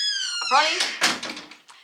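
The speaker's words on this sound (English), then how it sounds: "we need to put some oil in that door" A door squeaking on its hinges in a home, a high drawn-out creak with harmonic whine followed by a few shorter squeals, close by, with a voice talking over part of it.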